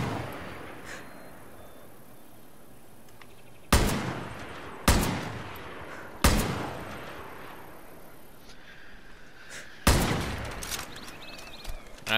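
Sporadic gunshots in the video game Far Cry New Dawn, played on PS4 Pro: about five sharp, loud single shots spaced a few seconds apart, each ringing out over a quiet ambient background.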